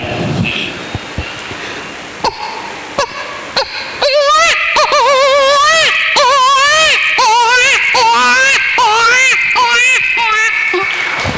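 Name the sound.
voice imitating a baby boy crying from hunger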